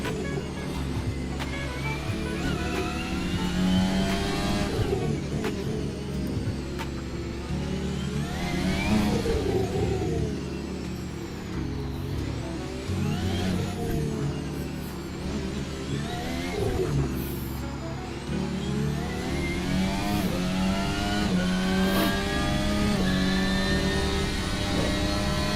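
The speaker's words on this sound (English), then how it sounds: "That is too high revs here." A car engine in the racing game Assetto Corsa, played in VR, revs high and continuously, its pitch sweeping up and down with gear changes, loud and sustained with no talking.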